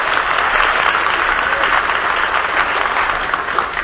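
A restaurant audience at a 1946 live radio breakfast broadcast in Hollywood bursts into dense, sustained applause mixed with cheering, loud and steady throughout with no pauses.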